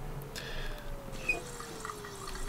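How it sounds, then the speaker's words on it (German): A water tap running in an apartment in the video game Mafia 2, giving a faint, steady trickle with small drips and splashes throughout. "wenigstens funktioniert der Wasserhahn"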